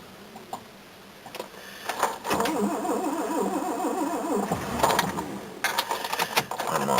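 A Peugeot 108 engine cranking and starting on a cold day: sharp clicks, then a rapid, rhythmic starter churn for a couple of seconds before the small engine catches and settles into an uneven idle with clattering bursts.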